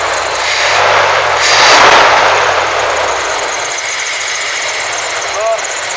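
The 5.9 V8 of a 2000 Dodge Durango runs right after new spark plug wires go on, a loud, steady engine roar with a broad rushing hiss that swells briefly and then holds, close to the listener.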